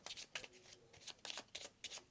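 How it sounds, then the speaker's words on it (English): A deck of cards from the Halls of Hegra board game is shuffled in several quick riffling bursts separated by short pauses, quiet and close, with no talk. "we'll take our high morale deck and give that a shuffle"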